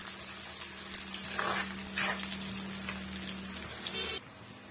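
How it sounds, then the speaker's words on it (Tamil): Onions sizzling steadily in a hot pan while cooking a country chicken curry, with a soft scrape or two of stirring and a low background hum; no one speaks. "வெங்காயம் நல்லா வந்து வதங்கி வரட்டும்"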